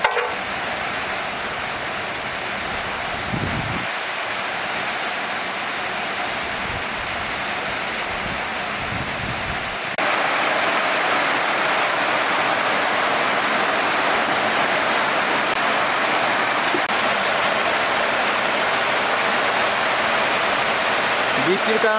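Heavy rain pours down steadily in a village setting, a dense roaring hiss that grows louder about halfway through, with occasional faint low knocks underneath.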